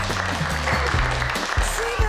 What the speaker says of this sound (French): Je veux plein d'applaudissements pour Patricia.